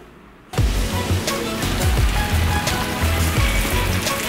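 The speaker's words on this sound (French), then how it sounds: "Là, il pleut sans arrêt." Steady, heavy rain falls in Tunis. A dense, even hiss starts abruptly after a brief quiet moment and continues loud and unbroken, with soft low thuds scattered underneath.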